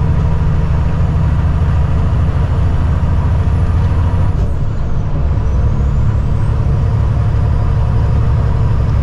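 Big concrete-hauling truck rumbling loudly and steadily up close as it pulls away, a constant heavy engine drone filling the whole stretch with no pauses and no talking.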